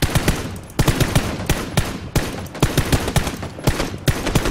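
Rapid automatic gunfire from PUBG rattles in dense, repeated bursts, loud and close, with sharp cracks packed tightly together and brief gaps between volleys.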